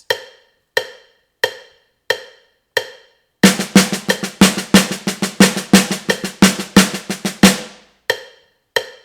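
Drum double paradiddle played on a snare alongside a metronome: evenly spaced single clicks lead in, then a fast continuous run of sharp strokes with accented beats, ending with a few more clicks, loud and close.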